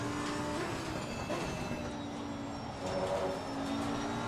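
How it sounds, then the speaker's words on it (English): Race car engine in Assetto Corsa Competizione at Imola, a faint, sustained high-revving whine with shifting pitch, holding steady throughout with no talk over it. "the scream of this engine is like ridiculous"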